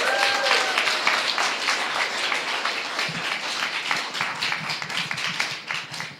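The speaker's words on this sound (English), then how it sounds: "A round of applause, please." Applause from the audience at a cancer-focused startup pitch competition final, dense sustained clapping that fills the room and carries on at an even level throughout.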